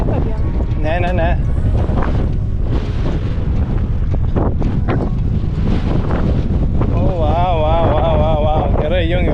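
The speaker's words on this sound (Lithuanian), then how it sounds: "jungiu kamerą, nes čia vėjas baisus" Strong wind buffets the microphone on the exposed coastal headland of Ponta de São Lourenço, Madeira, a continuous loud roaring rumble with gusty surges throughout and brief warbling tones cutting through.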